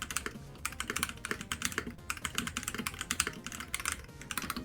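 Rapid clacky keystrokes on a MelGeek MADE84Pro mechanical keyboard, close and crisp, in an uneven steady typing rhythm with no voices.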